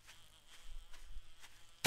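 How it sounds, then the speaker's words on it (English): A bee buzzing in the survival game 7 Days to Die, heard as a faint, thin drone that wavers in and out for a couple of seconds, with no talking. "We got a bee coming."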